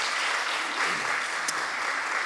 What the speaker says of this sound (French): Je crois qu'on peut applaudir Nicolas.